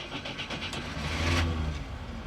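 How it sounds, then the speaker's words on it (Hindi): A 50-year-old Soviet Moskvitch 412 car engine starts up, a short burst of cranking followed by the engine catching into a rough, close mid-pitched idle rumble. "तो इंजन हमने स्टार्ट कर लिया है।"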